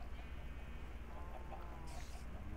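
Minecraft chickens clucking in a survival world with the Village Defender mod, a few short soft clucks over low background game noise, fairly faint and with no talking.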